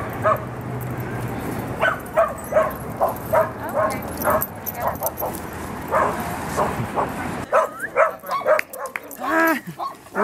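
A dog just back from a dog park yips, whimpers and lets out short barks in an uneven series, close and fairly loud, with a person talking over some of it.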